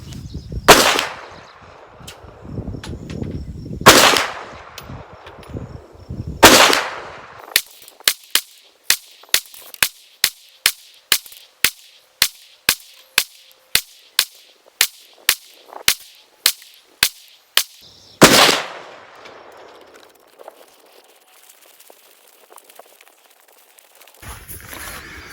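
Kel-Tec PMR-30 pistol fired at a 50-yard range, a few widely spaced sharp cracks, then a fast, even string of roughly twenty lighter shots, one louder report near the end, and a final shot after a pause.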